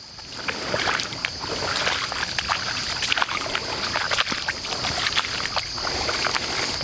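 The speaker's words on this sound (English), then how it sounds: "Get used to walking through water." A puppy and its trainer in rubber boots wading through water, giving a continuous run of sloshing, splashing and trickling steps, fairly loud and close, with rhythmic splashes over a steady watery wash.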